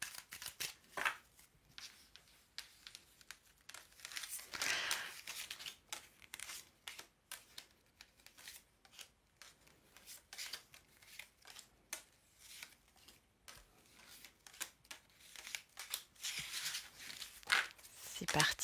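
Tarot cards shuffled and dealt out for a nine-card weekend reading, giving quick papery riffles, slides and soft slaps in bursts that come and go, with a voice speaking over them throughout.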